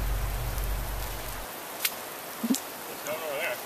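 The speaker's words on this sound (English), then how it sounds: "Oh, it's raining again." Steady hiss of rain falling on the Mirror Lake Trail in Yosemite fills the whole stretch, with a couple of soft knocks and a faint voice briefly rising near the end.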